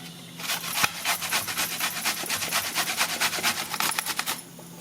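Rapid rhythmic scraping as a raw mango is rubbed back and forth over a grater, a steady series of rasping strokes up close.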